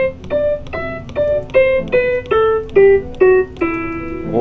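An E natural minor scale played note by note on a pitched instrument, rising then falling in an even rhythm of about ten clear, close tones with no talking.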